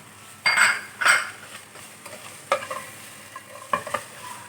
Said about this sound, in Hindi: बस हल्का हल्का सा इसको फ्राई करना है।